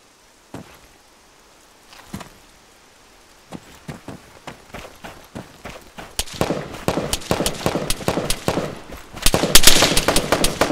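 Machine gun fire in the ARMA 3 military shooter, scattered single shots giving way to dense rapid bursts that grow louder and more sustained toward the end.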